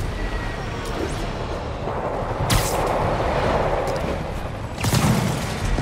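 Distant gunfire and heavy booms roll through a noisy battle scene in Marvel's Spider-Man on PS4, with continuous rumbling din and two sharper bursts standing out, no talk over it.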